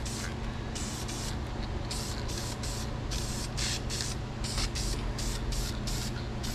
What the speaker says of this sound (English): Yeah, it still doesn't spray very well.